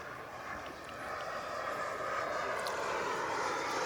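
A white turbine-powered model jet airplane flies overhead under an overcast sky, its steady whooshing jet roar rising gradually and holding in the open air.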